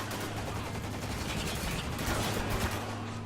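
Sustained cover-based gunfire from the shooter game Spec Ops: The Line sounds as a continuous, fairly distant rattle of shots layered over a steady low hum of battlefield noise.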